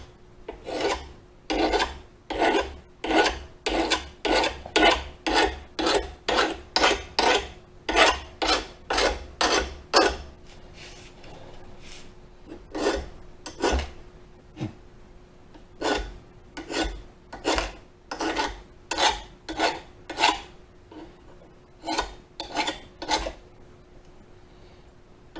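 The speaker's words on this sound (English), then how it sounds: "use the finer side and just scrape some material off. Watch your ears." A finer-sided file rasps against a rusty lawn mower blade during maintenance, a loud close series of rhythmic back-and-forth scraping strokes, quick at first, then a brief pause and more strokes in groups.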